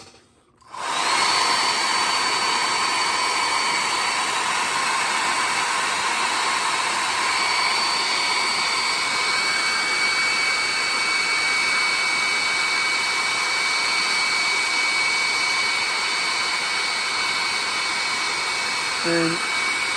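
A hair dryer switches on after a brief quiet start and blows a chickadee painting dry, its close, loud, steady whine and rush of air holding evenly to the end with a small click near the finish.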